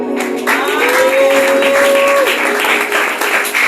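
A church congregation breaks into sustained applause and cheering, a dense wash of clapping with a sung or shouted voice rising above it, loud and continuous throughout.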